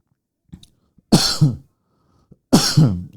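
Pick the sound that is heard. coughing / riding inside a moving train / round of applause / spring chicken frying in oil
coughing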